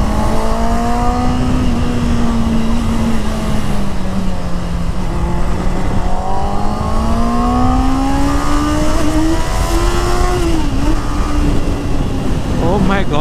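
A 2021 Honda CB650R with an inline-four engine climbs through the revs in a smooth, rising high-pitched wail, close and loud, with a voice talking over it.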